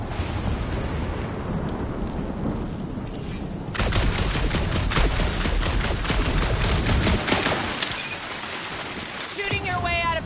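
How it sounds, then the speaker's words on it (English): Loud, dense gunfire fills a Guardians of the Galaxy video game battle, rapid bursts rattling almost continuously and swelling harder midway through. "Shooting your way out of every problem again, Peter?"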